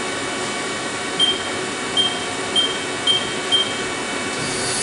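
A Haas CNC mill hums steadily under a broad machine and air noise while measuring tool length, with five short evenly spaced high beeps about half a second apart.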